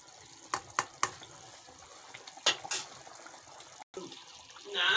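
Chicken curry simmering gently in a pan, a soft, low bubbling and sizzle with a few sharp clicks and pops, heard close and quiet with no one speaking.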